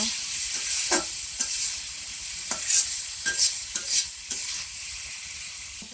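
Spices are stirred and fried in a pan with a continuous close sizzle and repeated scraping strokes of a spoon against the metal, loud and rhythmic, with no talking.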